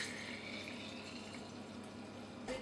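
Homemade yoghurt is poured carefully from a container into clean glass jars, making a continuous soft liquid pouring sound with a faint clink at the very end.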